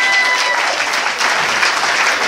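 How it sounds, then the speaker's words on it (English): An audience at a comedy show in a tavern bursts into loud, dense applause for the comedians, a continuous roar of many hands clapping together, close and sustained throughout. "Clap it up for all the comedians that touch stage tonight"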